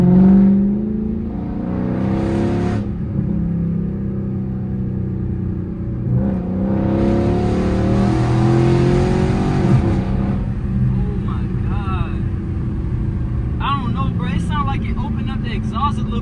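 A Chrysler 300 SRT 392 V8 engine drones loudly and swells twice in long revs through the exhaust, with people talking over the rumble.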